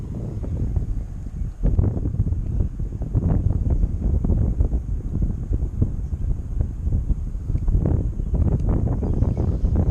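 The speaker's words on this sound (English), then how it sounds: "This wind is just making it so difficult." Gusty wind at an outdoor pond buffets the microphone continuously, a loud low rumble that swells and dips throughout with no speech.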